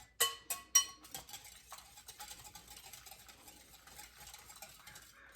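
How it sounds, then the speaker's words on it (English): A green egg mixture is stirred in a bowl: a few sharp utensil clinks at the start, then soft, continuous scraping and swishing up close. No talk. "I'm just gonna mix it a little bit more"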